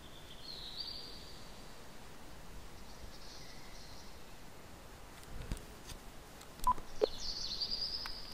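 Sparse electronic phone keypad beeps in the video game Slender: The Arrival, a few isolated tones near the end over a quiet hissy background with no talking.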